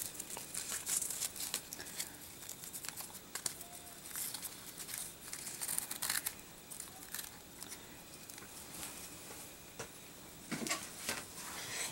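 Paper being trimmed for a handmade card tag, with soft crinkling, rustling and snipping-like crackles scattered irregularly at close range, no talk.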